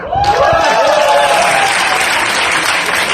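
At an alumni association president's inauguration speech at a high school, a loud audience bursts into sustained applause. A voice is briefly heard at the start before clapping fills the room.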